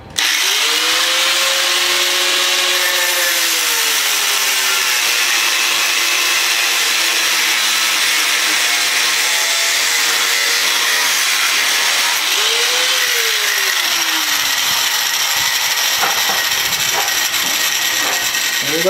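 A power tool cuts out a seized bolt on a shop fan with a steady, loud, continuous grinding whine that shifts pitch a few times and ends in rattling chatter.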